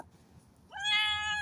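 A single clear cat meow rises after a brief quiet moment, close and fairly loud, with no other sounds around it.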